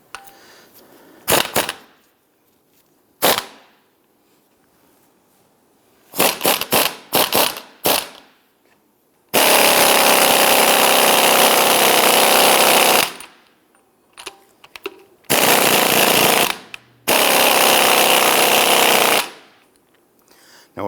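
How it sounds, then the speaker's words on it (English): Impact wrench loosening a strut nut with a 13/16 socket on a 2011-2019 Ford Explorer, with several short sharp bursts and then longer loud hammering runs, close and alone. "Using a 13/16 socket, we're going to go ahead and loosen and remove the nut."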